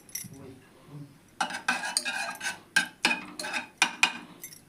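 A metal spoon adds a spoonful of ghee to a pan while making vegetable pulao, giving a quick run of sharp clinks and scrapes that start softly, then ring out loudly and repeatedly up close.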